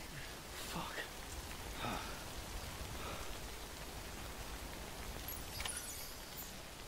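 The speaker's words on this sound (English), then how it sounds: "recover your cargo and then find shelter from the rain" Rain in the Death Stranding video game, a steady soft wash of falling drops with occasional brief louder spatters, heard faintly and continuously without talking.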